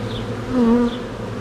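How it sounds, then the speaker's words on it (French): Honey bees buzz steadily inside an open beehive during an inspection, a dense continuous hum close to the microphone that swells for a moment partway through, with no talking. "tu as toutes les abeilles qui sont en train de bosser"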